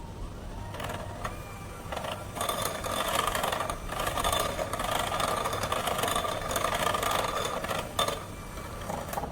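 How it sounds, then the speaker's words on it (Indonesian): An electric mixer beats steamed brownie batter after the dry ingredients go back in, giving a steady, fairly loud motor whir with a light rattle that runs the whole time with no talking. "Oke, masukkan kembali bahan yang kering semua. Kita mixer kembali."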